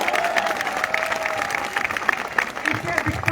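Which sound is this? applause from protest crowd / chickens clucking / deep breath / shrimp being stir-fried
applause from protest crowd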